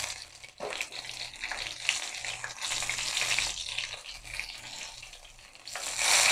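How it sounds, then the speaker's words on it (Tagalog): Marinated food frying in a pan, a steady broadband sizzle and crackle that swells and eases, close up and continuous with no one talking. "Balik tayo sa aking piniprito."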